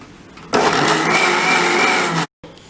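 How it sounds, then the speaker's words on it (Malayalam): A mixer grinder whirs loudly for about two seconds as it blends a vanilla ice cream mixture, starting abruptly and cutting off sharply, with quieter room sound before and after. "എസൻസ് ആഡ് ചെയ്തതിന് ശേഷം നമ്മൾ ഒന്നുകൂടെ നന്നായിട്ട് മിക്സിയിൽ അടിച്ചു കൊടുക്കണം"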